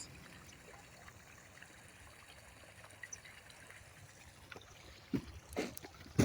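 Water trickles and dribbles from a busted sewer drain pipe in frozen ground during a winter ice storm, a low steady flow with a few sharper knocks and splashes toward the end.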